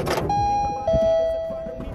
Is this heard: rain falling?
no